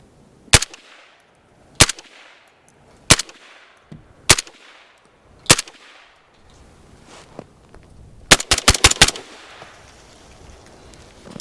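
Suppressed rifle shots from a PSA Jakl fitted with a Sandman-S suppressor: five sharp, evenly spaced single reports, then a quick rapid string of about five shots, each with a short dull tail, outdoors with no talking.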